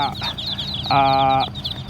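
Ducklings on a duck farm give a steady stream of high, overlapping peeps and chirps, with one longer, louder, tonal call near the middle. No talking is heard.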